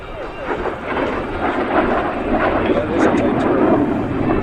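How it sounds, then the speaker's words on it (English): Jet fighter roar at an air show during a maximum-G turn, a loud sustained engine rush that swells gradually, with someone narrating over it. "a great display of its agility right here as it back in maximum G turn"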